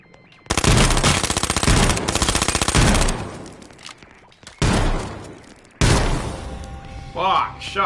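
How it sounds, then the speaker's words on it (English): Rapid shotgun fire in the H1Z1 battle royale game, a loud sustained burst of blasts followed by two more heavy bursts after short pauses, with game sounds and a voice underneath. "Shotguns."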